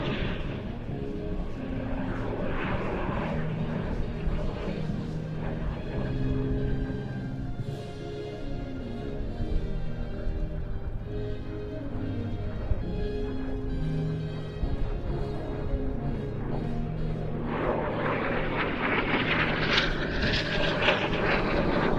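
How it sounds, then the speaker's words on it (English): An L-39 jet trainer flying a 360-degree maximum-rate turn during airshow practice at Leszno gives a continuous broad engine roar throughout, swelling louder and brighter near the end as it passes closer. "it's time to see the manoeuvrability of the L-39 from the right. Here comes the soloist for a 360-degree max rate turn."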